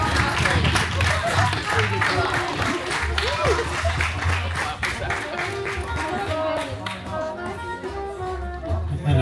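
Wedding guests clap and cheer for the best man at a reception, a dense patter of applause that is loud at first, then thins and fades while voices carry over it.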